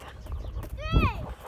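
Horse hooves clop in the snow, with a rising and falling whinny-like call in the middle, under a person talking.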